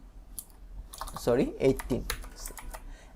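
Fingers tap a computer keyboard while typing JavaScript code. The soft clicks come in short scattered runs, partly under a person talking nearby.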